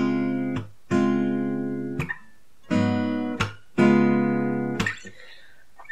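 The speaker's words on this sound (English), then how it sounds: "So I'll play the first chord progression first" Acoustic guitar strums a jazz chord progression, four sustained chords ringing out with rich harmonics and brief gaps between them, played close and clear with no voices.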